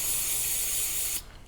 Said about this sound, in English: Just basically spray it right on the